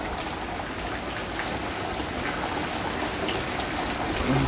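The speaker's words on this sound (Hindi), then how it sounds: "ये बारिश इतना तेज है भैया" Heavy monsoon-style downpour, a dense, steady hiss of rain pounding surfaces close by, unbroken and fairly loud throughout with no voices.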